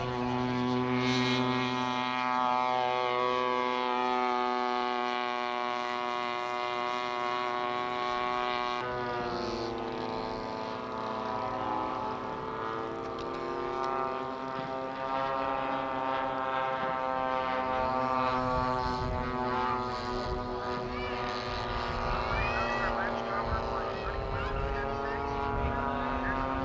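A model airplane engine at a 1991 fly-in flying station drones loud and continuous with a shifting, rising pitch as it takes off, while a voice speaks over it.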